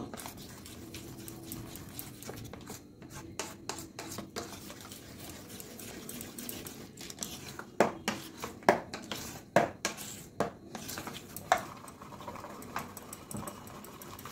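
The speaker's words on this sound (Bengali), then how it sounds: "এবার এই বেকিং পাউডারটার সাথে ভালোভাবে ব্যাটারটাকে আমি এইভাবে মিশিয়ে নেব।" Jilapi batter is stirred by hand with baking powder in a bowl, a faint, steady scraping and patter broken by a few sharper taps of the spoon against the bowl, with no talking.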